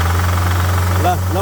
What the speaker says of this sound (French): Le moteur, il est mort. Je sais pas si vous entendez le claquement.